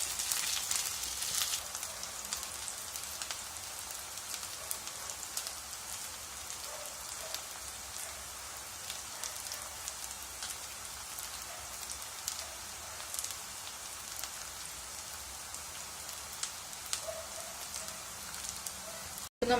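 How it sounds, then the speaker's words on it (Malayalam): Brinjal (eggplant) slices fry in hot oil, giving a steady, dense sizzle with faint crackles that runs evenly through the whole stretch, close and unbroken, with no talking. "അതുപോലെ ഈ സൈഡ് നമുക്ക് 2 മിനിറ്റ് ഫ്രൈ ചെയ്തെടുക്കാം."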